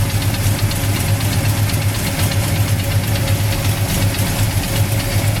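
A 1970 Plymouth Duster's 340 four-barrel V8 with high-rise intake and headers runs steadily, giving a loud, close, continuous rumble with a strong low throb and no talk over it.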